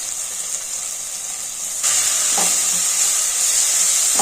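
Onions sizzle and hiss in a hot pan with turmeric and chilli powder, a steady frying noise that grows louder partway through and continues without speech.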